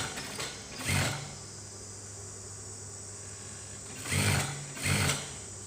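A sewing machine stitches a shirt sleeve into place, running in three short, close mechanical bursts of rapid whirring with quieter pauses between them.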